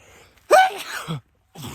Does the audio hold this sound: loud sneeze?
yes